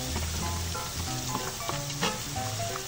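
Carrots and cabbage sizzle steadily in a pan as they sauté for sopas, a close, continuous frying crackle with faint stirring clatter.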